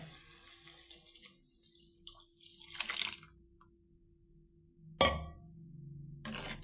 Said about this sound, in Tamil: கருவாடை அலசி போடலாம்